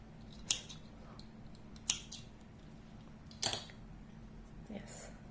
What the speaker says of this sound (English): Now I can cut the yarn.